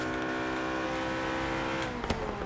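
A McLaren P1 in Forza Horizon 3 hums with a steady, droning engine tone at a constant pitch, loud and close, with a brief rise in pitch near the end.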